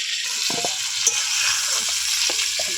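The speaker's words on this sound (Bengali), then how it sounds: "এবার আলু আর পটলটা বেশ লাল করে ভেজে নেব" Potatoes and pointed gourd fry in a pan, giving a steady close hiss of oil with soft stirring knocks scattered through, and no voices.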